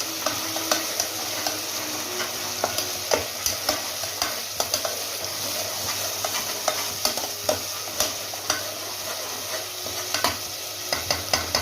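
Ground masala and ginger garlic paste for chicken gravy frying in oil: steady loud sizzle throughout with frequent small spoon taps and stirring scrapes at an uneven pace.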